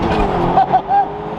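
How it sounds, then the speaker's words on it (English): A Lamborghini SUV with a straight-pipe exhaust roars loudly up close during a downshift, the engine note rising and briefly bouncing off the rev limiter in a steady, raspy blare. "Okay, I did hit the rev limiter right there"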